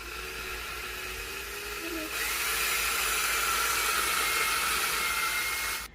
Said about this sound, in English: We're just going to drill a hole right in the center.